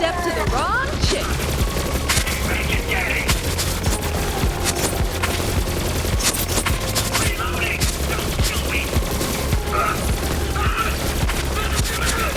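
Constant gunfire in a loot-and-shoot video game, dense automatic fusillades and bursts filling the whole stretch loudly, with booms and mechanical clatter mixed in.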